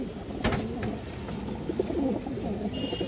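A pair of colorful Kajla-marked pigeons coo in repeated, throaty rolling calls close by, with a faint high tone near the end and no talking.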